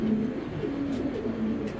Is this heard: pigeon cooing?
yes